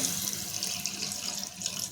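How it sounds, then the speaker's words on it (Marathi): A glass of water poured into a pan of fish curry made with mango, a short, steady, close rush of splashing liquid with no speech. "याच्यामध्ये एक ग्लास मी पाणी टाकून घेते"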